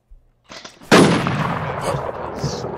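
Sharp gunshots ring out in a video game, a few faint pops first, then one loud close blast with a long echoing decay and scattered distant shots afterward.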